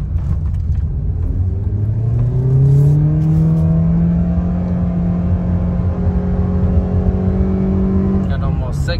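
A car engine fitted with a WINDBOOSTER throttle tuner revs hard in drag mode, a loud climbing whine that rises steadily toward about 6,000 RPM before it shifts and the pitch drops.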